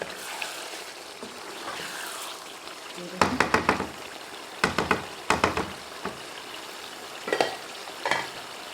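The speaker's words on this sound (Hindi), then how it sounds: "खूब हमने इसको भूनना है अच्छा से। टमाटर भी गल गए हैं" Masala with softened tomatoes frying in a pan, heard as a steady close sizzle broken by bursts of spoon stirring and scraping against the pan, with several louder clustered scrapes.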